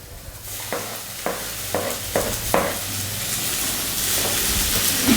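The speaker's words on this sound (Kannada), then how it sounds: "ದಪ್ಪ ದಪ್ಪ ಕಟ್ ಮಾಡಿಕೊಂಡು ಇದು ಸಹ ಅದ್ರ ಜೊತೆಗೇ ಫ್ರೈ ಮಾಡ್ಕೋತಾ ಇದ್ದಾರೆ" Thickly chopped tomatoes fry with masala in a pan for a country-style chicken gravy, giving a continuous close hiss and sizzle, broken early on by a few sharp spoon scrapes against the pan.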